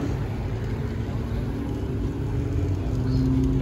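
Chevrolet Camaro ZL1 engine idling and building in a low steady rumble that grows slightly louder toward the end, close by at a street car meet.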